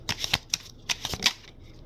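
Tarot cards being shuffled, about eight quick papery riffles and slaps in an uneven burst, close and fairly soft with no talk.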